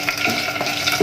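Dried red chillies and a bay leaf frying in hot oil for a tomato chutney, giving a steady close crackling sizzle with light scraping stirs throughout and no talk.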